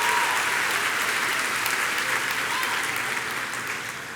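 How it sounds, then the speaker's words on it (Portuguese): A church congregation applauds for the Lord, a dense, sustained burst of clapping from many hands that fades slightly toward the end. "dá uma salva de palmas ao Senhor"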